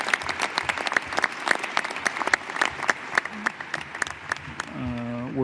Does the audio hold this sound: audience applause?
yes